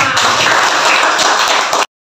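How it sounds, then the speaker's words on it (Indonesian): Students applaud together in a classroom, a loud, dense wash of clapping that holds steady for nearly two seconds and then stops abruptly. "tepuk tangan untuk kita semua"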